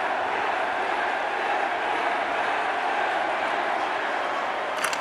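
A hockey arena crowd in the NHL 25 video game roars as a steady, loud, unbroken wash of cheering that fills the whole stretch without talk.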